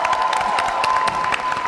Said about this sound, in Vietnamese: Một tràng vỗ tay thật to cho nghệ sĩ Hoài Linh cùng với đoàn Thành Tài.